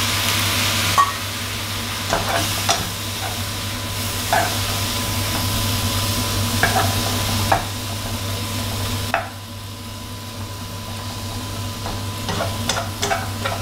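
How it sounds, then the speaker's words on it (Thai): Shrimp stir-fry with curry powder over high heat in a pan, a continuous loud sizzle with intermittent scraping stirs and clinks throughout, close up and without speech. "ผัดคลุกเคล้าให้เข้ากันเลยครับ ถ้าเกิดน้ำแห้งเกินไปก็เติมน้ำได้นิดหน่อยนะครับ"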